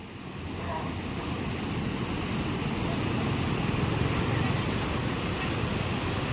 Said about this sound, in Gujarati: નદીનું પાણી એટલું બધું આવી રહ્યું છે, તમે જોઈ શકો છો